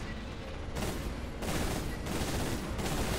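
Stormbolter fire in the video game Warhammer 40K: Space Marine, a dense, sustained burst of gunfire that rolls on in loud surges with no pause across the whole stretch.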